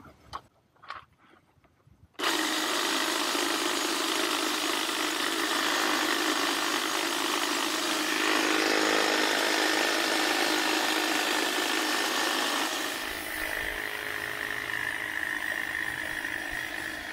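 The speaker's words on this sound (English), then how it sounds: "So we're just trimming it, following all those contours to clean it up." A Milwaukee M18 cordless hedge trimmer cuts through a cedar hedge, its blades starting after a few faint clicks and then buzzing loud and steady for a long stretch, the pitch shifting as branches load the cutter.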